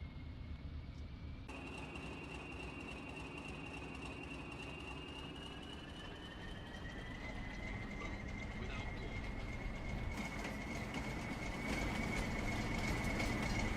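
A train in Farming Simulator 25 powered by an engine originally built for torpedo boats, its steady drone rising in pitch as it speeds up, with a whine on top and a voice talking over it.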